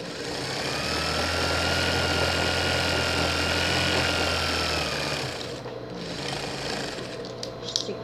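An overlock sewing machine stitches elastic onto a pet jumpsuit, humming loudly and continuously at close range for about five seconds before slowing to a quieter run, followed by faint handling clicks.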